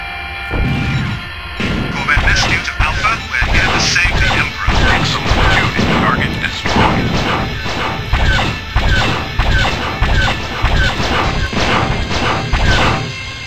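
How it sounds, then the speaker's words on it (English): Enemy starship laser fire in TIE Fighter, a steady stream of rapid impacts and blasts pounding close and loud for over ten seconds, with radio voices underneath. "They all started shooting at me all of a sudden."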